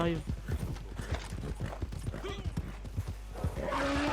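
Rapid rhythmic hoofbeats of a galloping horse, with a whinny near the end, while a person talks over it.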